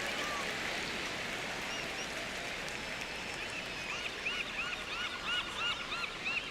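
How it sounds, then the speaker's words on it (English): Loud seagull cries in a baseball video game set in Miami, a steady wash of crowd and ambient noise with repeated gull calls rising toward the end. "Those are some loud seagulls."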